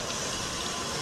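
Tap water runs in a steady, even broadband rush during handwashing at a hospital sink, with no voices over it.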